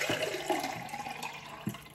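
Water runs steadily into a water filter jug nearby, a continuous splashing pour with a few soft knocks and clunks along the way.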